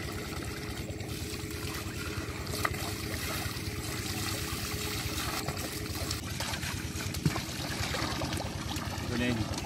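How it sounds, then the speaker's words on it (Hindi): Water is poured quickly over dirty dishes during an outdoor dish wash at a jungle farm house, giving a continuous close splashing and trickling stream with a couple of small clanks. "सबसे पहले इसको मार लेते हैं पानी"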